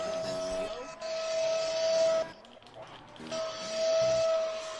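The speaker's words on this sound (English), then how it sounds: "Who's got the vacuum going?" A loud, high-pitched whining drone in an F1 race at the British Grand Prix cuts in and out in two long bursts, steady while on, with a brief quieter gap between.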